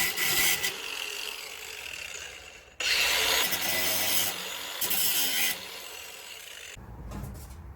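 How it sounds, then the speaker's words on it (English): Metal stock for crucible lifting tongs is cut by hand with a steady rasping saw stroke, close and loud in long sustained passes that pause and resume, with no talking. "I'm going to cut this second part down"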